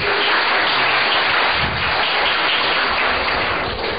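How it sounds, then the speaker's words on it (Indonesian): Audience applause at an Indonesian Buddhist talk by Bhante Pannavaro, a dense, steady wash of many hands clapping close and loud for about four seconds with no voices over it. "Mari kita beri tepuk tangan untuk Bekasi."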